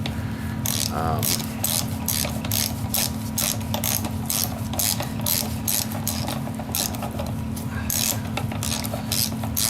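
Ratchet wrench clicking steadily in rapid repeated strokes, loosening a bolt on a Mercury inline-6 outboard starter, close and loud over a constant low hum.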